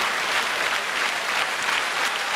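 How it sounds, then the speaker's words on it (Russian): A television studio audience breaks into brief, dense applause, an even burst of many clapping hands at moderate volume. "Ваш аплодисмент"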